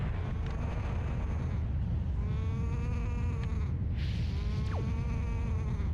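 Drawn-out mooing from a cow in The Wind Waker video game, several moderately loud calls rising and falling over a dense, rumbling background with no talk.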